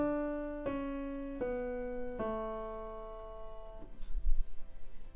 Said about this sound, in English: And then the A tetrachord sounds like this.